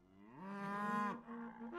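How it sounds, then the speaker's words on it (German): In the video game Rustler, a cow lets out a single, clear, drawn-out moo, close and steady, with no talk over it. "Da ist die Kuh."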